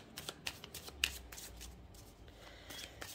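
Tarot cards are shuffled by hand, a quiet, close run of soft riffling flicks and snaps.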